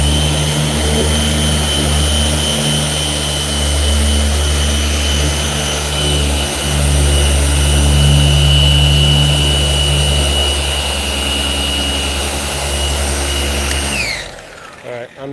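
A rotary polisher buffing a square-body truck hood with cutting compound, cranked to high speed, whines loudly and steadily with a droning tone throughout, then winds down near the end; a voice talks over it.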